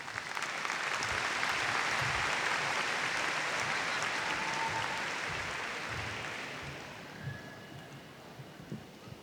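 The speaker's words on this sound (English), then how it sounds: "Please greet these special guests with applause." Sustained audience applause for special guests at a high school graduation ceremony, a broad steady roar of clapping from a large crowd that slowly fades toward the end.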